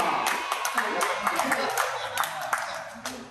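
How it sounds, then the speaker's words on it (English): A small group claps for an elderly grandfather at a language lesson, a short burst of scattered, uneven hand claps, fairly close and moderately loud, with a voice speaking alongside. "Give it applause to Grandpa."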